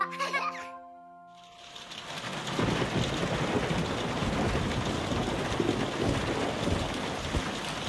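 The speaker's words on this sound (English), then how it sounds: "Oh, what rain." Cartoon rainfall with thunder sets in after a short musical sting and a brief pause, then becomes a steady, moderately loud wash of rain with low rumbles through the rest.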